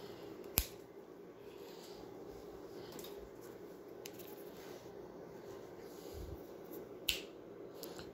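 Beading wire cut at an angle while making a three-strand rose: two sharp, isolated snips, one near the start and one near the end, over a quiet hiss.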